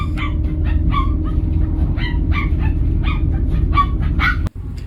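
A dog on a bus gives a run of short yips and whimpering barks, close and fairly loud, over a steady low engine rumble, ending in a brief sharp knock near the close.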